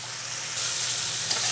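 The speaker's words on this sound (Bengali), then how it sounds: "মশলাটাকে সুন্দর করে কষাবো" Spice masala frying and sizzling in a pan for a Bengali vegetable curry with kushi (ivy gourd), chichinga (snake gourd) and potato, a steady close hiss with faint stirring and no talk.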